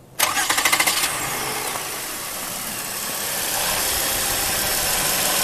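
A 2006 Toyota Sienna engine cranking briefly with rapid pulses, catching, then settling into a steady close idle after a serpentine belt replacement.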